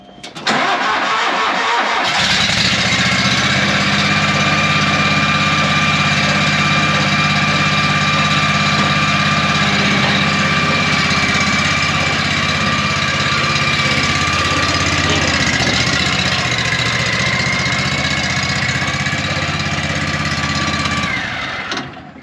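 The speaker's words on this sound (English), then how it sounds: "That motor is still that Amazon one I put in there over a year ago." A replacement motor bought from Amazon starts up after about two seconds and then runs loud and steady with a constant droning hum and slight vibration. It stays close, with no talk, and cuts off at the end.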